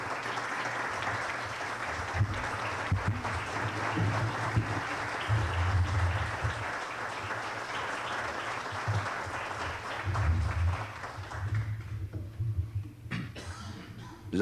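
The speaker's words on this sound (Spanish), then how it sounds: "Este aplauso es para usted," A crowd claps at a tribute ceremony honoring Lalo Gámez Solano, sustained full applause for most of the stretch before thinning into scattered fading claps near the end.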